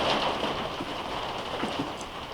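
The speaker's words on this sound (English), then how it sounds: "it's starting to rain harder" Steady rain patters down outdoors, a dense even hiss of drops on surfaces that holds near and constant with no voices over it.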